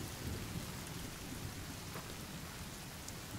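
Steady rain hisses through a game forest in The Forest, with a low rumble of thunder underneath, continuous and fairly soft with no voices.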